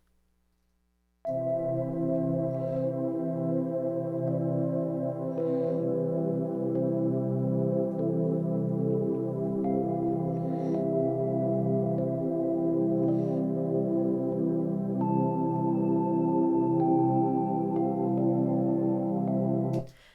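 Sustained electronic piano chords and a simple quantized melody in Ableton Live play evenly on the beat for about twenty seconds, clean and close, then stop abruptly.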